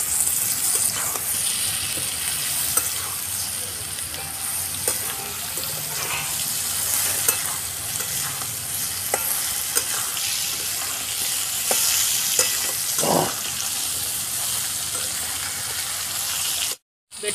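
A spice paste with turmeric and ridge gourd sizzles steadily in a pan while being stirred, a constant hiss broken by occasional scrapes and clinks, with a brief dropout near the end.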